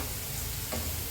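Chicken kofta balls fry in hot oil, a dense, steady sizzle and bubbling heard up close without pause and with no talking.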